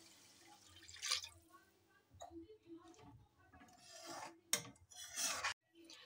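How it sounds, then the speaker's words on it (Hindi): Water is poured into a masala gravy in a pan while cooking Rajasthani gatte ki sabji, giving faint, intermittent splashing and sizzling bursts close by. "अब हम इसमें पानी ऐड करेंगे।"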